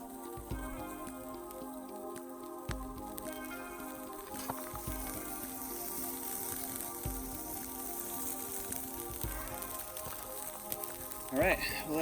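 Squirrel meat sizzles on a very hot griddle over a campfire, a steady crackling hiss that runs throughout with scattered pops and a few sharper clinks near the end, while a voice talks over it.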